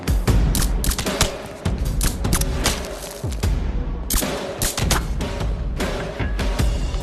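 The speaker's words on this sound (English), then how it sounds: "So here, I'll put a clip of a movie suppressor." A movie-style suppressed gunshot effect delivered as a rapid series of loud, close, punchy thumps and bursts, with a brief lull before a second volley.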